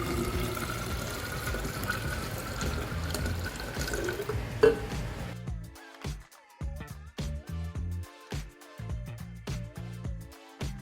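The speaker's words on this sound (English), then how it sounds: "So I pour it into my jar." Homemade coconut milk pours into a jar, a soft continuous liquid stream that gives way to a series of separate drips and small splashes, close and fairly quiet.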